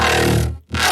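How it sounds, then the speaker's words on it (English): An overly processed wubby growl sample from a sound design session gives a dense, buzzing, heavily filtered bass tone that cuts out briefly before surging back, loud and alone. "just kind of like an overly processed wubby growl"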